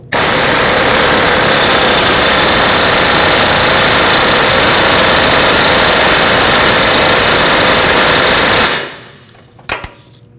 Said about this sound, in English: I'm just going to make it about as tight as I can estimate 350 foot-pounds with my air impact